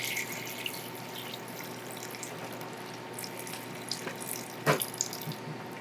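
Plain water running steadily from a kitchen tap for cooking, a continuous hiss and splash with a short clunk near the end.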